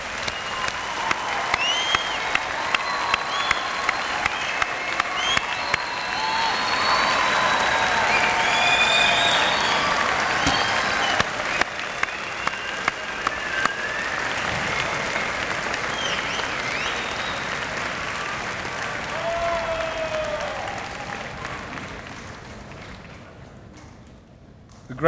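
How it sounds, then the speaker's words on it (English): A convocation crowd at uWaterloo applauds its newest graduates in long, dense, steady clapping with scattered whoops and shouts, swelling mid-way and tapering off near the end. "Ladies and gentlemen, let's give a big round of applause to our newest graduates."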